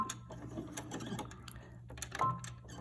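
A sewing machine stitching a cloth face mask runs in a steady, close mechanical whir with rapid needle ticking, fairly quiet and continuous throughout.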